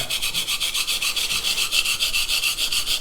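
A 210mm Yoshikazu Ikeda honyaki gyuto in White #2 steel is stroked over a sharpening stone, giving a steady run of quick, even scraping rubs at close range with no voices.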